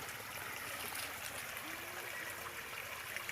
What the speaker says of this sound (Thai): ลำธารสวยครับผมพี่น้อง